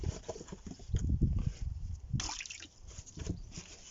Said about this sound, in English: adding the coir pellets and letting them swell up